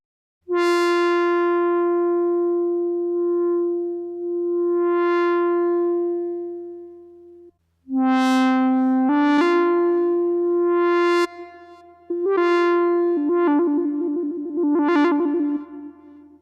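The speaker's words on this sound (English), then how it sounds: "By emphasizing the cutoff frequency of the filter, you get that really distinctive sound associated with classic synthesizers." A subtractive synthesizer plays bright, buzzy oscillator notes shaped by a sweeping filter cutoff: a held tone, then a quick run of shorter notes with a warbling, resonant edge, loud and alone with no talk.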